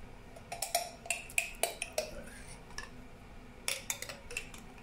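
A spoon clinks and scrapes against the metal bowl of a Cookeo pressure cooker while mustard is scooped in for chicken yassa, a series of sharp, bright taps in small clusters, close and fairly quiet, with no talking.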